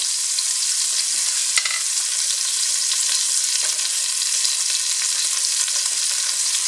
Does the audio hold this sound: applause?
no